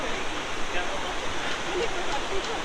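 Mountain river rushing along its course, a steady broadband roar of flowing water that stays loud and constant throughout with no pauses.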